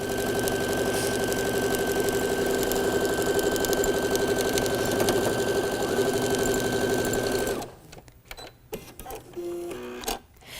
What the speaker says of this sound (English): So now I'm going to just place one over top of the other and stitch that with a 1/4 inch seam